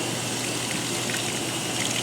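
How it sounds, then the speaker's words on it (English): Cold tap water pours steadily onto a hot mold in a lab sink, making a continuous, close, even rush of splashing water with no pauses and no voices. "we'll let the cold water run onto that for"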